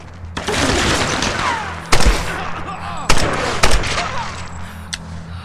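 Gunshots fired in the Tomb Raider video game for a headshot: three sharp, loud cracks at irregular intervals over a continuous game soundscape of rumbling ambience and music.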